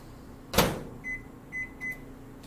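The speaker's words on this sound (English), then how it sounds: "I'm gonna pop this in the microwave" A kitchen microwave oven door thuds shut, followed by three short, thin beeps as the oven is set, fairly faint against a quiet room.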